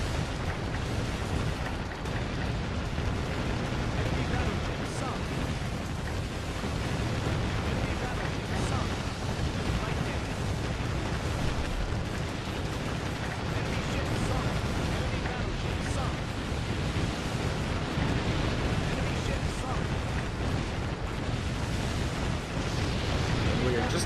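Missiles explode in the naval combat game Warship Gunner 2, making a continuous dense roar of blasts that never lets up. The booming wash stays loud and steady throughout, with no pauses.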